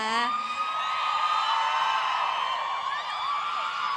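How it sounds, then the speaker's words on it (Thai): A large concert crowd screams continuously at high pitch, a dense wall of shrieks and cheers lasting throughout, loud and unbroken. "เสียงกรี๊ดดังทะลุเข้ามาในหูเลยนะคะ"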